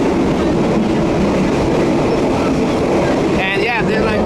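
A Thai passenger train runs along the rails with a steady, loud rolling rumble and a faint clatter throughout, and murmuring voices sit under the noise near the end.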